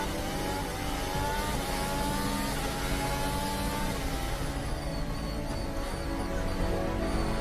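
Formula 1 race cars roar away together at a race start, a dense continuous wall of high-revving engine noise, loud and steady throughout.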